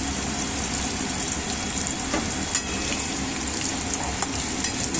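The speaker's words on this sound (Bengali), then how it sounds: "আচ্ছা আলুটা ভাজা হয়ে গেল" Potato pieces fry in hot oil, giving a steady close sizzle with soft crackles and occasional stirring scrapes throughout.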